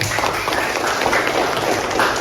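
A school crowd applauding in class, dense steady clapping that fills the whole couple of seconds at an even level.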